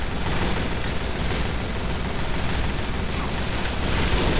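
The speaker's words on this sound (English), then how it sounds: "This guy just keeps firing and firing and firing." Rapid, dense gunfire from a Team Fortress 2 match, loud and continuous with overlapping shots and bursts filling the whole moment, no speech audible.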